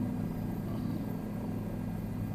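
A helicopter flying in a flight simulator game, from JFK toward Newark, gives a steady, dense rotor and engine drone that holds at an even level throughout, with no talking.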